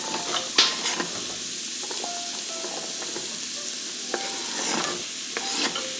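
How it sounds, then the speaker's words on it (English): Onion, garlic and carrots hit a hot soup pot, a soft sizzle running beneath loud scraping and clattering as a spoon stirs them. The stirring repeats close up, and no one talks. "Now I'm going to add my onion and garlic. I'm also going to add in my carrots."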